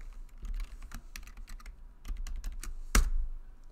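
Fingers type on a computer keyboard, with quick irregular key clicks up close and one heavier thump near the end, steady and uninterrupted.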